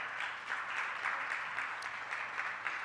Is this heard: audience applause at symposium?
yes